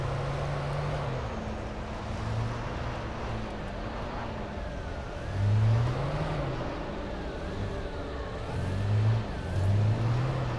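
A car driven and then parked in the video game Alan Wake, a steady engine hum with gear-like whines and a few louder revving swells, no speech over it.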